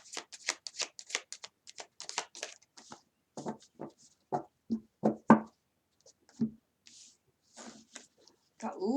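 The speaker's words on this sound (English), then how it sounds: "Got a lot of cards in that shuffle there." Tarot cards riffle and snap in quick bursts, a run of rapid shuffles followed by slower, separate flicks, close and fairly quiet with no voices.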